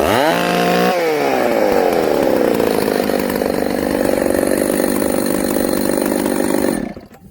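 A ported Husqvarna 266 chainsaw revs up loudly, then holds a rough, buzzing high-speed roar close to the mic before cutting off abruptly near the end.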